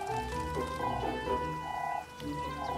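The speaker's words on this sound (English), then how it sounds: "Can you hear that frog?" A frog croaks repeatedly in a garden, short rhythmic bursts of croaking that are fairly faint and heard alone against a quiet background.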